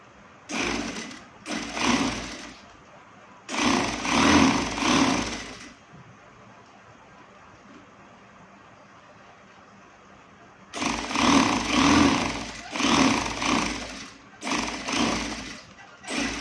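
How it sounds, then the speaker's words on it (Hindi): Sewing machine stitching the panels of a baby's frock together, running in several loud bursts of steady mechanical whirring separated by a long quiet pause in the middle, with no talking. "तो अब हम लोग 2 कलियाँ ले लेंगे इस तरह और इन्हें सिलाई के साथ अटैच कर देंगे।"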